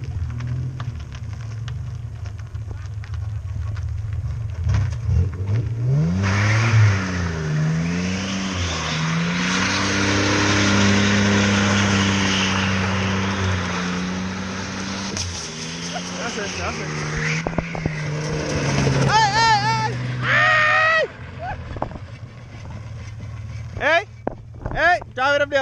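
A turbocharged Ford Mustang drifts through a roundabout, its engine note rising and wavering through a long sustained pull, followed by sharp tire squeals and chirps near the end, with voices talking over it.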